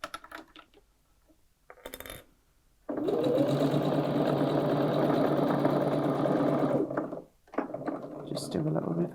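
A sewing machine runs close and steady for several seconds, stitching the lining of a reversible pocket tote bag, then stops briefly before starting again, with a voice talking over parts of it.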